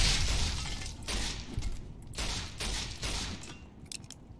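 Video game gunfire from Fallout: New Vegas, Lonesome Road, comes as bursts of loud cracking shots with a shattering, crunchy texture, clustered in rapid volleys separated by brief gaps.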